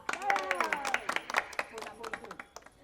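Scattered audience applause at a comic women's gathering on a stage, quick uneven claps rising briefly in a moderate-sized crowd, brisk and fairly close.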